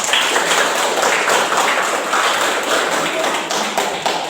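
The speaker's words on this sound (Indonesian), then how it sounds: "Kasih aplaus untuk kita semua." A classroom audience of students applauds, with dense, steady clapping close by that holds at an even loudness for several seconds.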